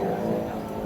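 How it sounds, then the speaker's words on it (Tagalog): A motor tricycle passes outside, giving a steady, fairly loud engine rumble that fills the whole brief moment. "Basta yung tricycle sa labas na ingay."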